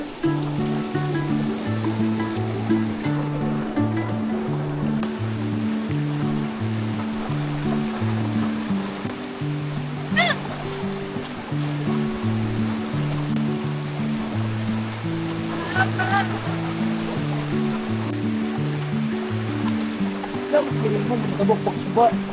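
A river flows along a jungle trail to a hidden waterfall, Cobra Falls, with a steady rushing wash of water heard under a persistent droning, pulsing tonal layer for the whole stretch.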